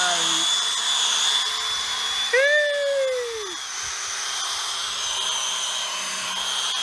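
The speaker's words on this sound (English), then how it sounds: "now Joe doing the polishing" A power polisher working on a car part, emitting a continuous whine with a brief pitch sweep that rises and then falls as the load changes, heard close and steady.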